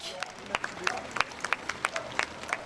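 Onlookers along the route of Brigitte Bardot's funeral procession in a small Var village applaud as a white vehicle carries her coffin, scattered distinct claps at a distance over a quiet outdoor background.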